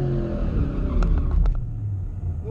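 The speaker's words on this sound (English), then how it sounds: "A little better burnout that time." A modified car with a drag pack does a burnout on the drag strip, a steady engine rumble with squealing tire bursts in the middle, heard at a moderate distance with no talk.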